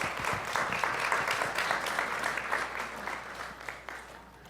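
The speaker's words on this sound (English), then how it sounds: "Let's give ourselves a round of applause" A church congregation applauds themselves with warm, steady clapping from a moderate-sized group that builds, holds, and then thins toward the end.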